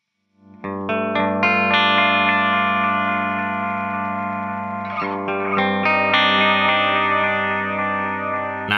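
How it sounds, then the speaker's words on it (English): A Nemesis delay pedal self-oscillates, piling up loud, sustained echoes into a thick harmonic drone with distorted, chorus-like texture; a brief dip near the middle gives way to a fresh swell of repeating echoes. "with the Nemesis, you can hear that the transients on each echo are very obvious"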